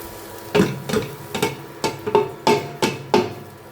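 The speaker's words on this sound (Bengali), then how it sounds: "এই যে গরম চাল ঢেলে দিলাম" Hot rice being added to cooked beef in a pot for beef tehari made with mustard oil: about nine evenly spaced thuds and scrapes, close and fairly loud, with no talking.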